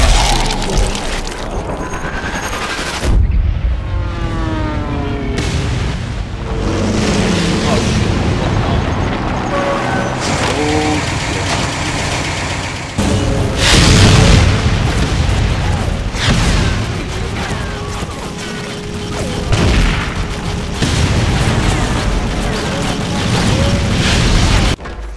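Vehicle explosions in Sniper Elite III, as loud deep booms and bursts recurring through a dense game soundtrack with gunfire and mechanical clatter, several sharp blasts spread across the span.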